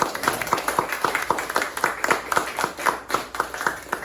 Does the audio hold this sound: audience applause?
yes